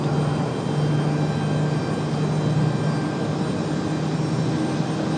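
An Icelandair airliner departs from Raleigh-Durham airport, its jet engines producing a loud, steady roar heard from a distance, with no voices.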